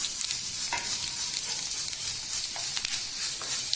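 Whole spices frying in hot oil for beef biryani, a dense steady sizzle with a few brief stirring clinks, close and continuous, with no talk.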